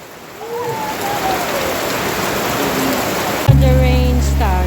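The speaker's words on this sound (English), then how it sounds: "The rain starts." Rain falls at an outdoor night market in Palau as a dense, steady hiss that grows slightly heavier. Faint voices sit underneath, and a loud, low droning tone cuts in near the end.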